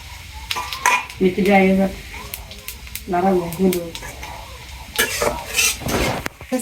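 Taro pieces frying in oil in a pan, stirred with a utensil that scrapes and clinks against the metal, a steady sizzle running beneath intermittent talking voices nearby.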